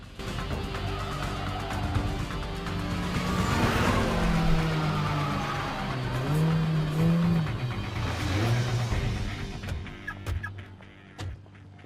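A BMW racing car engine in the video game Need for Speed Most Wanted roars steadily, with repeated rising and falling revs and gear shifts in a loud, continuous stretch.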